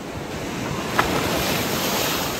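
Ocean waves washing onto Eco Beach make a continuous broad roar of surf, mixed with heavy wind buffeting the microphone and one brief splash partway through; nobody speaks.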